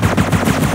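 Rapid burst of weapon fire from rockets launched in the Ricochet Squad shooter game, a dense continuous loud volley of repeated blasts with no pauses.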